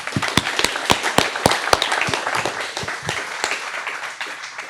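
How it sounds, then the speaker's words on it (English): A live studio audience applauds a guest on stage, dense clapping with a few sharper claps standing out, steady and fairly loud for the whole stretch. "give her a round of applause"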